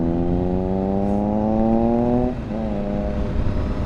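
A 2022 Triumph Scrambler 1200 XE motorcycle accelerates hard, its engine note rising steadily through a gear, dropping at a shift, then climbing again amid wind noise.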